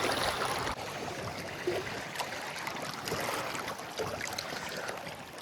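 Water being drawn from a lake at an island campsite near Tobermory, Canada: a steady, close, hissing wash and trickle with no voices.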